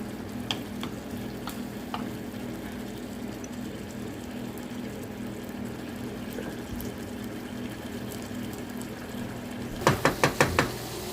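A spice mix fries in a pan with a low, steady sizzle beneath a constant background hum, and a quick burst of several sharp knocks from the stirring spoon near the end.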